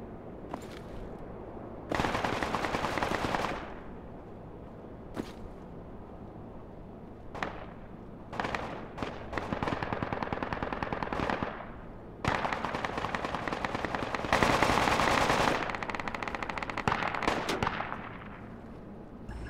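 Heavy gunfire from the military shooter game Project Reality on a desert map: repeated machine-gun bursts and single shots, some close and loud, others sparser and more distant, with quiet gaps between volleys.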